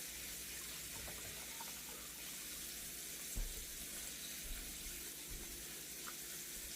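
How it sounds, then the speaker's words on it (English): A rag dipped and swished in a dish pan of bleach water at a kitchen sink: a steady running-water wash with soft sloshing and a few small splashes, close and unbroken, no talking. "let me dip it here in the dish pan here"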